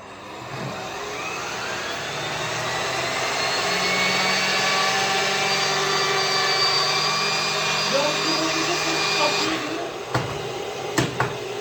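An Arnica Tesla Premium vacuum cleaner runs with a steady loud whine and motor hum that builds slightly, then switches off near the end, followed by a few clicks and knocks.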